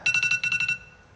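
A mobile phone alarm rings nearby: a rapid series of about eight bright electronic beeps in two quick bursts, then it cuts off.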